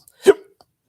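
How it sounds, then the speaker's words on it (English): A single sharp hiccup from someone who had been drinking while lying down, close and abrupt, with a brief throaty tail and no talk around it. "Had a little hiccup there."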